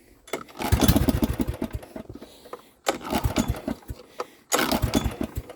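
Car engine under an open hood cranking and firing without choke, three bursts of rough turning and sputtering separated by short pauses, loud and close.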